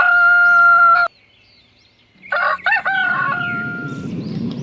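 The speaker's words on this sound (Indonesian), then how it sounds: "Wih, yang ini hewan ayam" A toy rooster plays a loud electronic cock-a-doodle-doo, then falls silent for about a second before a burst of crowing and clucking sounds, followed by a noisy electronic tail.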